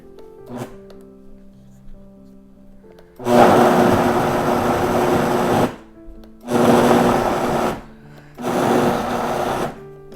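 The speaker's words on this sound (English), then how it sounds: "Now we're gonna buzz it because it still has frozen fruit in it" After a quiet hum, a blender roars in three loud pulses separated by short pauses, grinding through frozen fruit.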